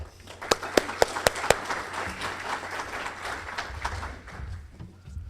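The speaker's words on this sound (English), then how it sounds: "let's give Don a round of applause" An audience at a Kiwanis Youth of the Year event gives a round of applause. A few sharp, loud claps stand out near the start before a steady spread of moderate clapping that fades toward the end.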